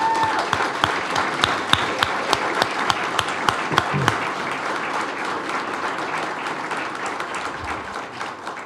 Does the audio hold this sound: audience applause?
yes